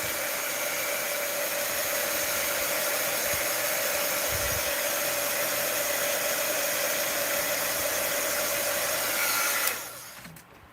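A hair dryer blows steadily on a freshly inked drawing, a loud, even whine that runs unbroken for about ten seconds and then cuts off abruptly.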